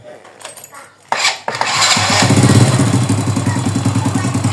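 A rebuilt Honda Supra Fit motorcycle engine cranks with a few starter clunks, catches, and settles into a steady, loud, close idle with a fast, even pulse.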